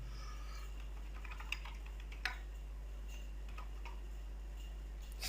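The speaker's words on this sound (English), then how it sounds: "there after the student name I'm just typing something like" Someone typing remarks on a computer keyboard while filling in an HTML table, heard as faint, sparse clicks with a few sharper taps over a steady low hum, no voices.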